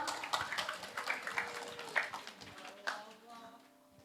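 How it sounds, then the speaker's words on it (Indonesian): A small audience at an Indonesian Islamic religious gathering claps in scattered, uneven bursts that thin out and fade, with a voice talking over the hands. "Tepuk tangan dong."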